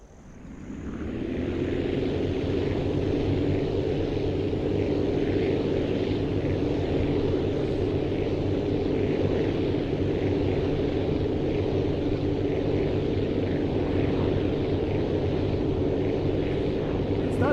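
A plane's engine in the Aviassembly game revs up for takeoff, a steady loud droning roar that swells in over the first second and then holds at full power, with a low rumbling tone underneath.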